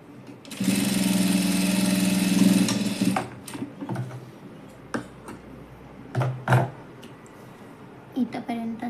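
A sewing machine runs in one steady loud burst of a few seconds, stitching the side cut of a dress, then stops, leaving cloth handling and a voice speaking.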